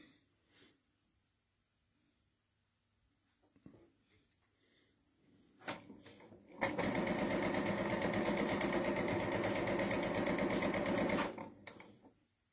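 A sewing machine stitches two quilt block halves together with a strip between them for a Bear Paw block, running steadily for about five seconds after a few faint handling taps.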